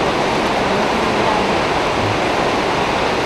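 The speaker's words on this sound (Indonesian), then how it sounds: "Udah 4 jam lebih nih. Awet hujannya." Heavy, steady rain that has kept falling for hours at a forest monastery, a dense, continuous broadband hiss filling the whole moment at loud, even level with no pauses or voices.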